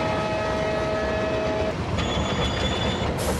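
A WDM3D diesel locomotive slowing in an Indian train video game, a steady loud engine drone and rail rumble with tonal whine that fades, followed by a high squeal of braking wheels near the end, no talk.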